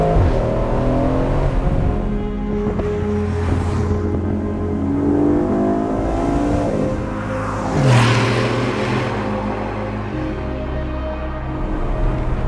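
An Aston Martin Vantage Roadster sports car engine revs loud and close as it accelerates, pitch sweeping upward through several gear changes over about twelve seconds, with no talking.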